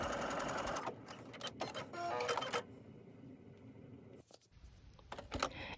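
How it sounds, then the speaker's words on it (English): A sewing machine runs in short bursts with stops and restarts while back-stitching the edge of a satin silk or knit scrunchy, its rapid mechanical whir close and fairly loud, with no talk. "have the needle right there towards the edge. And don't forget to do a couple of back stitches."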